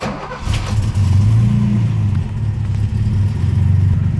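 A Ford Capri engine starts and settles into a loud, close, steady idle with a low rumbling note, heard on its own with no talk.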